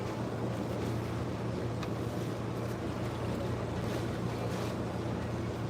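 Water churns and sloshes steadily inside a Speed Queen Horizon washing machine during its rinse cycle, a continuous broadband wash with a low motor hum underneath, no voices.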